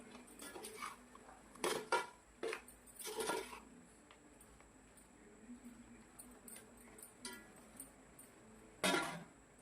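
A spoon scraping and clinking against a pot while chicken biryani masala is stirred, several sharp metallic knocks spread unevenly over a quiet kitchen background, close and moderately loud.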